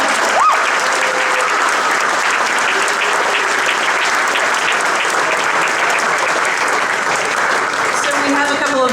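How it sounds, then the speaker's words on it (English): A science pub audience at OMSI gives a long, loud, steady round of applause, with thick continuous clapping and faint crowd murmur underneath. "let's give him a round of applause"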